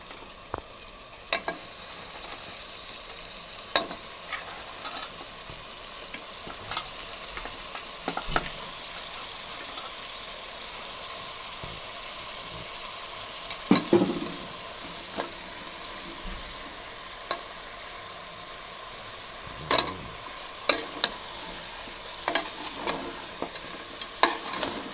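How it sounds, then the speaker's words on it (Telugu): Goat head meat fries in a pan with a soft, continuous sizzle, broken by irregular scraping and clanking as a spoon stirs it against the metal at close range. "ఇప్పుడు తలకాయ మాంసం వేసేసుకుందాం."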